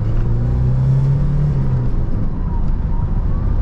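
A 1984 Ford Mustang SVO accelerating at about half throttle on the road, a steady low engine drone with a rising tonal hum, loud and close from inside the car.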